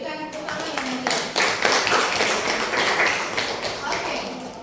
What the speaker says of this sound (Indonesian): Berikan tepuk tangan yang mulia.